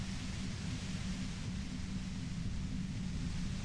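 Violent white noise effect in the video game Disco Elysium, a dense, steady hiss with a heavy low rumble underneath, constant and overwhelming throughout with no pauses or talk.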